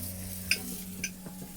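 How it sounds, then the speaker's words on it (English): Eggs and a bratwurst frying for breakfast in a van, a low, quiet sizzle under a couple of light metallic clinks from a pan or utensil. "We're just making a little bit of breakfast. Got the kettle on, a couple of eggs and a bratwurst"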